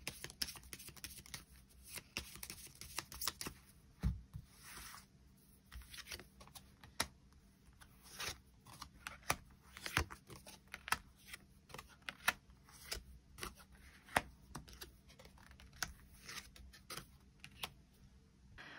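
Tarot cards drawn and handled for a weekly reading, faint close clicks and soft taps scattered irregularly, quiet, with no talking.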